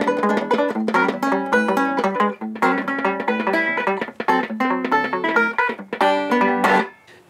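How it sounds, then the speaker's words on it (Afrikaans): A banjo guitar strummed and picked, giving a bright, tinny, twangy tone: a close, lively run of plucked chords and notes with brief pauses, played alone. "Hierdie is wat jy noem 'n banjo gitaar."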